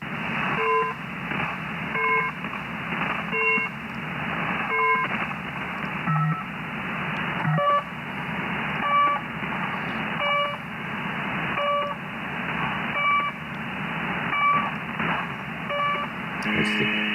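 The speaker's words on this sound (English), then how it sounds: "That's the pip and the buzzer." A radio channel marker sends repeated short electronic pips and buzzer tones in a steady rhythm over a continuous band of radio hiss, clear and fairly loud, with no voices.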